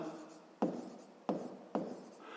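Pen strokes scratch on paper during a fifth-grade math exercise, three distinct short scraping marks with soft rubbing between, close and quiet.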